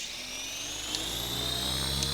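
A simulated RC helicopter in the AccuRC flight simulator whines with a steady high-pitched rotor and motor tone, loud and continuous, performing aerobatic funnels and hurricanes.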